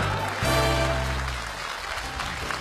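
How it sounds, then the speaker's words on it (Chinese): Audience applause on a variety show stage as a comic duo is welcomed, a dense steady clapping wash with a low musical tone underneath fading partway through. "掌声有请快乐兄弟组合，"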